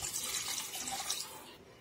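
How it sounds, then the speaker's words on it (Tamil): Water is poured steadily into a pot of basmati rice for egg biryani. It makes a close, continuous splashing rush that tapers off near the end. "இப்போ தண்ணி அளவு தண்ணி வச்சாச்சு"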